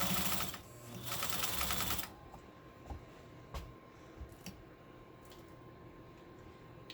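A Pfaff 130 sewing machine stitching fabric, a fast steady mechanical whir and needle clatter for about two seconds, then it stops, leaving faint clicks and handling taps in a quiet room.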